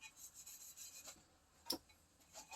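Someone sands the edge of a wooden cheese and bread board by hand, making quiet, rhythmic rasping rubs with a single sharper scrape in the middle.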